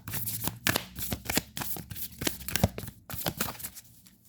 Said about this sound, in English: Let me get some advice cards for my air sign, please.